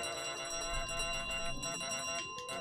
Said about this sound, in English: I keep on hearing the bell ringing